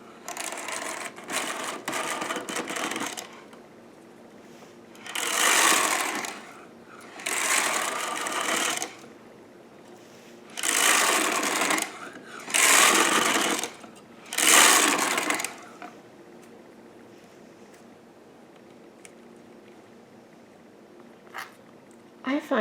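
Vintage Sister toy knitting machine carriage pushed across the needle bed in repeated passes, each a loud rasping whirr of a second or two, separated by quieter handling clicks and pauses.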